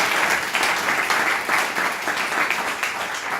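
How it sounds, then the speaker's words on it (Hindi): Dense, steady applause from a seminar audience fills the whole stretch, a continuous wash of many hands clapping at fairly close range with no talking over it. "एक बार जोरदार तालियां हो जाए उनके लिए।"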